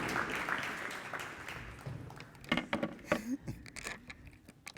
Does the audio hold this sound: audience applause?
yes